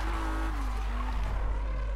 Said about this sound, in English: my daily objective is to drift for 187 yards, so we are just gonna drift for a bit